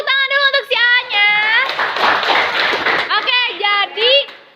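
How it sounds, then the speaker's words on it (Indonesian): A group of school students clapping together in a classroom: a short burst of applause in the middle, framed by people talking before and after. "Oke, tepuk tangan dulu untuk si A-nya."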